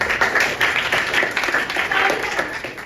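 A class of students claps together after a chemistry lesson, a dense and fairly loud round of applause heard close throughout.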